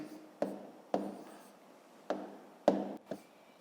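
Pen or pencil writing numbers by hand during a fifth-grade maths exercise: a handful of quiet scratchy strokes with sharp onsets, close and faint, with no talk.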